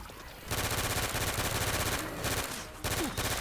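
Rapid automatic gunfire from a PC video game crackles in dense, sustained bursts with short gaps between them, loud and close.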